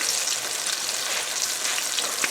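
Chicken thighs frying in light olive oil, a steady close-up sizzle with crackling pops that holds evenly throughout, with no talking.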